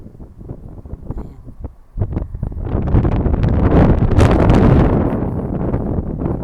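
Strong, cold gusty wind buffets the microphone outdoors outside a house, rising from a lighter rustle into a loud, continuous roar that stays close and rough.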